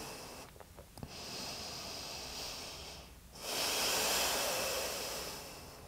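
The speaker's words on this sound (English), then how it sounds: "Taking some deep old breaths here." Deep, slow breathing during a yoga stretch, with long airy hissing breaths, one swelling in the middle and a louder, fuller exhale near the end, close and alone.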